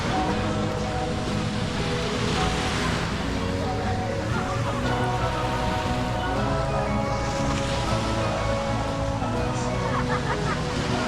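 Ocean surf washing steadily on a beach in Bohol, Philippines, a continuous broad rushing wash with swells rising and falling throughout, voices talking faintly in the background.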